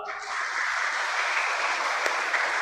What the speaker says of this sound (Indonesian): Tepuk tangan juga untuk orang tua.